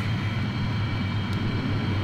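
Maddog MD80 airliner in a flight simulator spooling up for takeoff, a steady loud engine drone with low rumble and a faint high whine, no voices.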